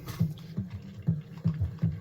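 Water poured from a kettle into an instant noodle tray of Myojo stir fry noodles in a kitchen, a soft close liquid gurgle with repeated low pulsing glugs about every half second over two seconds, no talking.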